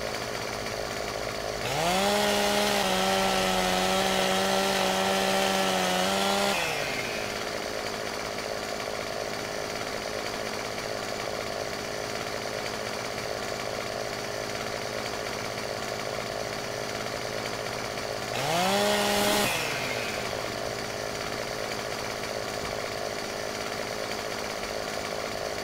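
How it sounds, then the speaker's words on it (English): In the logging game Farming Simulator 15, a chainsaw cutting logs roars up for about five seconds, drops to a steady idle hum, then gives a second short rev near the end. "let's spin our chainsaw around, see if we can get a beat on this thing"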